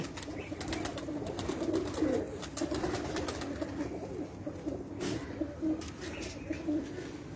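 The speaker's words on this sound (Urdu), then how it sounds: "یہ جی نیلم کبوتر جی انڈیا ہے کبوتر دیکھو کبوتر" Neelam breed pigeons cooing on a rooftop loft, soft repeated low coos in overlapping phrases with light fluttering and clicks nearby, fairly close and steady.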